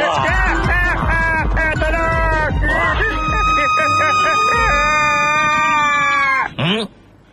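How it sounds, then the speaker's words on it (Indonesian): A high, sustained scream in a Doraemon cartoon rings out over busy music and effects, loud and drawn out for several seconds before cutting off abruptly. "Saya dengar macam suara orang menjerit lah"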